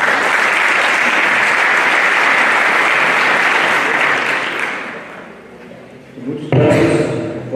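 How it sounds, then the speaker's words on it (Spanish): Loud, dense applause from an audience at an event on early-onset familial Alzheimer's in Jalisco, steady for about five seconds before fading, then a brief louder burst near the end. "Lo recibimos con un fuerte aplauso."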